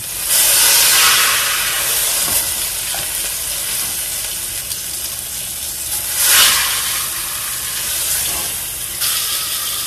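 A roast sears in a hot pan with a loud, steady sizzle and hiss, and the spitting swells in bursts as the meat is turned or moved.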